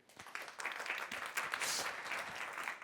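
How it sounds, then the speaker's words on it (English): An audience at a conference claps and applauds steadily, a dense patter of hands filling the room at moderate distance. "A big round of applause for Nicolas, Jean-Luc, and Mathieu."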